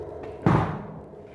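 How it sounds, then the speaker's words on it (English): A door shuts at a house entrance with a single solid thud partway through, fairly loud and close, followed by a short fading rumble against a quiet indoor background. "He just shut the door on"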